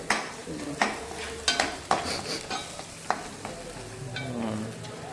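Onions sautéing in a pan for mutton kulambu, with a low sizzle broken by several sharp stirring scrapes and clatters of a spoon against the pan, close by and moderately loud.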